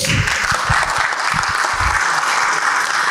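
An audience at a talk on building an IT startup gives the speaker a loud, full round of applause, many hands clapping steadily throughout.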